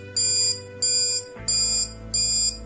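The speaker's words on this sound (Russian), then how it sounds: "Когда датчик обнаружит влагу, он срабатывает и издает звуковой сигнал." Modo-King enuresis bedwetting alarm sounding its moisture alert: four loud, evenly spaced electronic beeps, each about a third of a second, repeating in a steady on-off rhythm, close and alone.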